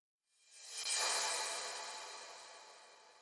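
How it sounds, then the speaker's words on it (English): Reversed crash cymbal sample with reverb: a bright washy swell that rises quickly, peaks near the one-second mark, then fades slowly into a long reverberant tail, alone and fairly quiet. "and we reverse it, and we add reverb to it, so it sounds like this."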